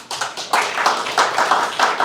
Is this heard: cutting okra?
no